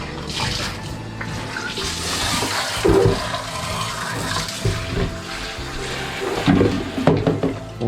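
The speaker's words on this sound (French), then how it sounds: "On va maintenant passer au rinçage." Winemaking equipment being rinsed with running water, a steady splashing gush with clatters and bumps of the gear in the stream, fairly close and continuous for several seconds.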